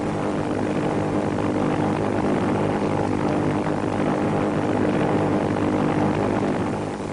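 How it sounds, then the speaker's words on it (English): World War II propeller planes fly southward toward the Philippines on an attack mission, a dense, steady engine drone with broad rumble that holds at constant loudness throughout without pause. "As the planes flew southward on their mission"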